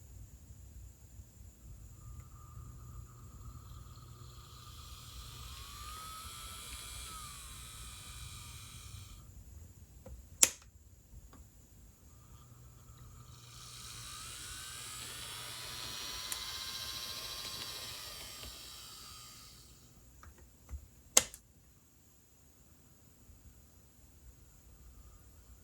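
A Kato Amtrak Surfliner N scale model locomotive running slowly on DC power gives a faint, steady whirring hum that swells and fades in two long passes, with a couple of sharp clicks between them.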